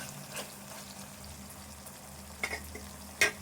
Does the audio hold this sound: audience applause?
no